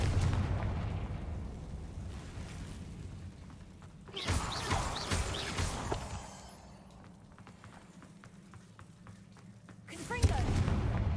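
Fire spell blasts from Confringo in Hogwarts Legacy go off over a steady game ambience, with a loud burst near the middle and another toward the end.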